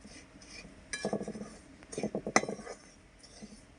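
Spoon stirring semolina (sooji), sugar and coconut in a bowl while making a sooji sweet: a few close metallic clinks and scrapes bunched together, with quiet sounds between them.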